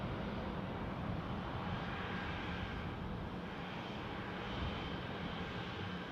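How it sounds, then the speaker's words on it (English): A Eurowings A319 passenger jet bound for Mykonos at Dusseldorf airport makes a steady, fairly faint engine roar that holds evenly throughout. "Well, I'll assume this is the Mykonos plane."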